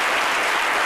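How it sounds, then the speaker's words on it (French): Audience applause on a live midday TV talk show in Abidjan, a dense steady wash of many hands clapping, loud and continuous throughout without talk. "Et ça s'applaudit très fort."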